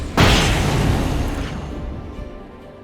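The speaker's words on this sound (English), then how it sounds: "Flashbang, quickly." A flashbang detonates in Alan Wake as a single sudden loud boom, then a long rumbling decay that fades over a couple of seconds.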